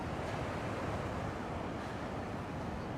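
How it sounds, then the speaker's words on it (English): Fast, monsoon-swollen Ping River water in Chiang Mai pours straight over the top of a sluice wall, a steady, dense roar that fills the whole stretch without a break. "the main flow of the water is passing straight over the top."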